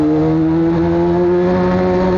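Honda CBR600 motorcycle engine held at high revs, a loud steady whine close by with no talk over it.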